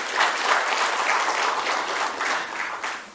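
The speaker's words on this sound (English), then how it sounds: "I will need an applause here." A room of investors at a Unishire investor meet breaks into steady, dense applause that holds at an even level for the full few seconds with no voices on top.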